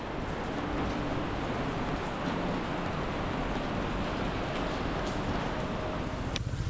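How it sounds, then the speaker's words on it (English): Rain falls steadily on a street in Macau as a dense, even wash of patter, fairly loud and unbroken, with no voices. "I'm getting kind of wet, and it's kind of raining"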